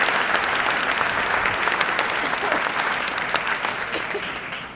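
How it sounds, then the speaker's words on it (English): An audience at a Black History luncheon gives a sustained round of applause, dense and fairly close, with crowd murmur mixed in, slowly tapering toward the end. "give them a round of applause for you."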